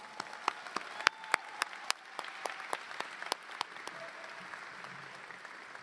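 Applause at a collegiate honor society induction ceremony thanking event organizers, a modest room-wide clapping with distinct sharp individual claps standing out, gently tapering over several seconds.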